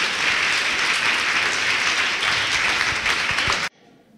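Church congregation applauding during a sermon, a loud, steady wash of clapping that holds for several seconds and then cuts off abruptly into near silence.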